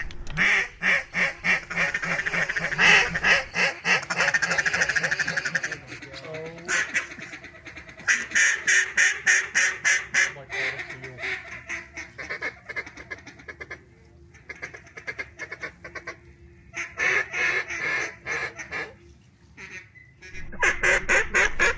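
A large flock of ducks and geese on Arkansas public hunting land lifting off together, with dense bursts of loud quacking and honking that come in waves and pause briefly, close and continuous over about twenty seconds.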